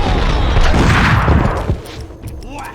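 Gunfire in Max Payne roars as a dense, loud burst of shots and impacts for nearly two seconds, then falls away to quieter scattered sounds.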